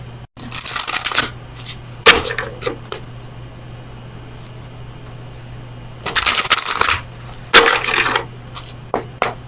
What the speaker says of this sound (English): let me get you an oracle card from the Oracle of Visions